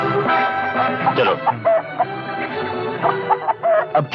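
A rooster clucks in a series of short, fairly loud calls with a broad rumble of background noise and some voices underneath.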